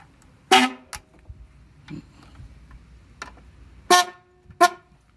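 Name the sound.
new car horn sounding on a Mazda RX-7 FD3S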